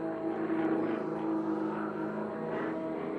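A Sukhoi SU-31 aerobatic plane flies unlimited aerobatics at a US national competition. Its propeller engine gives a continuous loud droning roar from the cockpit, steady throughout, with no speech.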